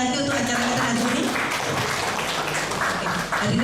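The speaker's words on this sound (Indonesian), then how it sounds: "Tepuk tangan sekali lagi untuk acara kita hari ini." Audience applause at an in-house training session on gratuity control and conflicts of interest. A steady, dense wash of clapping goes on throughout at even loudness, with no clear break and faint murmur from the room beneath it.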